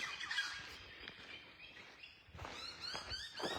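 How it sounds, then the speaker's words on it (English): Birds call around lakes at sunrise, a faint, distant mix of chirps and squawks over steady outdoor background noise, growing a little busier toward the end. "There's a lot of birds around here."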